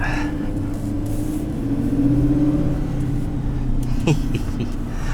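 A 2021 Chevrolet Silverado 6500HD truck with a Duramax engine drives along, its engine a steady, loud low drone with a mild rise in pitch, heard from inside the cab.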